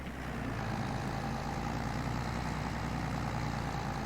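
Valtra tractor engine in Farming Simulator 22 labouring under a heavy load, a loud, steady, low droning rumble that holds constant with no break and no talk.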